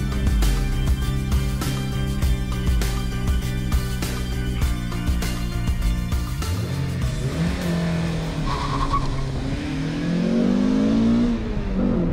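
A Honda Accord Type-R sports car engine revs hard and high, sustained and loud, then drops and climbs again with rising pitch sweeps.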